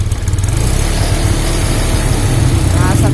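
A Honda Genio scooter engine runs loud and close with a rough idle as the throttle is blipped, its rasping, sputtering note rising and falling.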